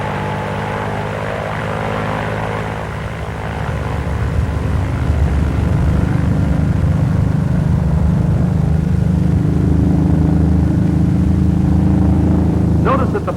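An F4U Corsair piston engine builds to full power for takeoff, a loud, steady propeller roar rising and holding close by, with narration talking over it.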